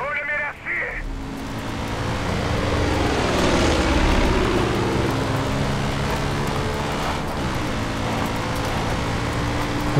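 A propeller airplane drones loudly in the video game Far Cry 5, a steady engine roar that swells and holds for several seconds after a brief snatch of talk at the start.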